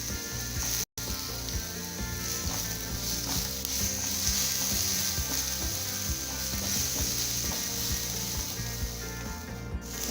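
Ginger garlic paste fries in a pan for a chicken dish, a continuous sizzle with repeated scraping and rattling stirring strokes close up.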